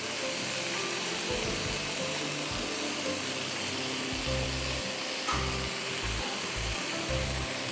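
Rice sautéing in a hot pan for a chicken shawarma rice platter, a steady close sizzle with broad hiss and occasional stirring knocks, continuous throughout.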